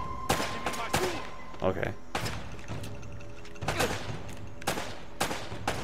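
Repeated gunfire in the action game Uncharted: Drake's Fortune, sharp shots in quick clusters with thuds and mechanical clatter between them, while someone speaks briefly.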